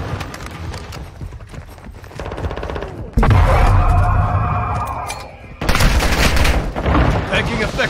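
Bursts of rapid automatic gunfire in Call of Duty: Modern Warfare II on the Embassy map, close and loud, with a sustained heavy volley midway and more shots near the end, under shouted squad callouts.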